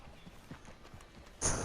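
Donkey hooves clip-clop at a slow, uneven walking pace on a Saint Denis street in a video game, a few soft hoof knocks followed by a louder burst near the end.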